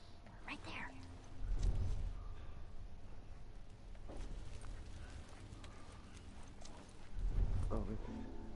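Soft clip-clop of horse hooves passing at a walk in The Last of Us Remastered, with two louder bursts of steps, under faint ambient game noise.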